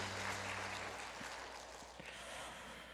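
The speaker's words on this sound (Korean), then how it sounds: "하나님 앞에 박수 올려드리죠." A church congregation applauding during a Sunday worship service, a broad steady wash of clapping from many people heard at some distance, fairly quiet and continuous throughout.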